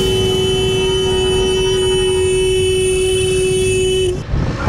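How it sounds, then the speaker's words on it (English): A car horn blares in one long, loud, unbroken tone over rush-hour traffic noise in downtown Chicago, then cuts off abruptly near the end. "I honk for you."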